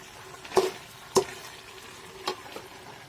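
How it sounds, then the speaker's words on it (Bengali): Chicken curry with seem beans is stirred in a pan, with a few sharp clinks of the utensil against the metal over a faint background sizzle, close and brief. "আবার ঢাকনাটা উঠিয়ে ভালো করে নেড়ে চেড়ে নেব।"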